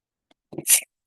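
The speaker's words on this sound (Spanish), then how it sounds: "me dio el estornudo" A single short sneeze from a woman lecturing in Spanish, close and fairly loud, a quick inhaled catch followed by a sharp burst, alone without talk.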